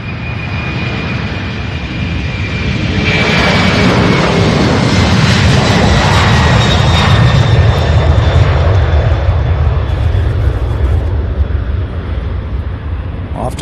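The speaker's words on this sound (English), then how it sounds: "our first UPS takeoff" A UPS cargo jet takes off at Louisville International Airport, its engine roar swelling from a steady rumble into a loud, sustained broadband thrust with a faint whine riding on top.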